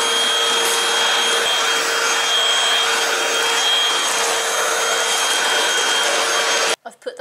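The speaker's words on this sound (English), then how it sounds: "I'm trying to be more conscientious about getting the Hoover round more regularly." A cordless Hoover vacuum cleaner runs steadily and loudly at close range with a constant motor whine, cutting out abruptly near the end.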